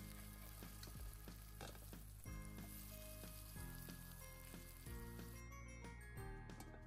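Potato pieces fry in hot oil in a pan for chicken wings with potatoes, giving a continuous close sizzle and crackle with occasional clinks and stirring scrapes, with no voices over it.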